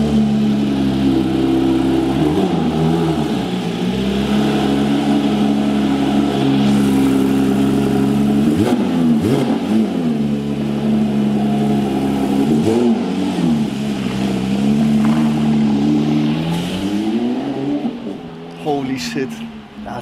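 A new Porsche sports car engine revs hard several times with rising and falling growls, then pulls away, loud and close, with people talking excitedly over it.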